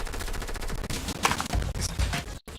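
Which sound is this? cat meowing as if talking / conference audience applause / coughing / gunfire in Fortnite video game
gunfire in Fortnite video game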